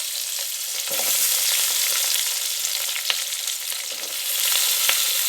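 Small shallots frying in a pan for navadhanya kuzhambu, a loud, dense crackling sizzle with a few sharp stirring clicks, steady for the whole stretch without talk.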